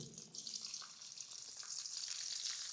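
Chopped onions sizzle and crackle in a hot pan while being stirred, a steady bright frying hiss with occasional scraping, close and continuous with no talking.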